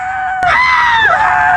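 A woman in a stage play of Clue lets out a sharp, sustained high scream that wavers in pitch, starting abruptly and holding loud and close for over a second.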